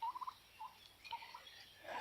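A farm turkey gobbles in a quick rattling burst, then gives a few shorter calls, fairly close and alone.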